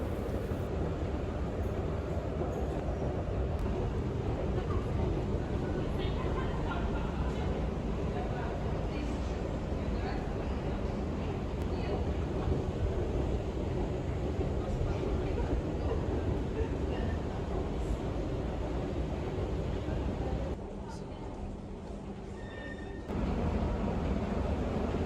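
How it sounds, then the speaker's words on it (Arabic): Loud, continuous rumble of a metro train echoes through an underground station four floors below ground, steady throughout with a brief quieter dip near the end; voices murmur underneath. "نحن عم ننزل 4 طوابق لتحت الأرض لحتى نركب المترو"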